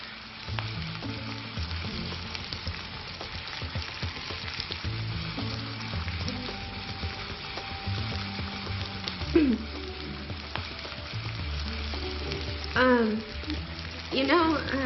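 Garlic frying and sizzling in a pan while being stirred, a steady close sizzle with scraping stirs and brief clatter of the utensil; a voice speaks over it.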